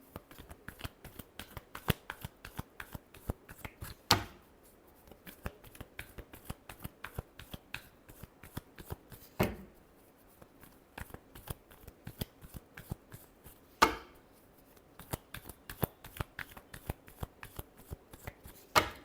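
Tarot cards shuffled by hand in a long run of rapid, crisp riffling clicks, with a few louder snaps as the deck is squared, close and alone with no talk.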